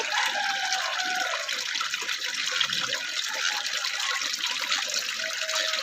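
A Japanese turtle plays in water, and a steady, loud rush of splashing and gushing water runs continuously throughout.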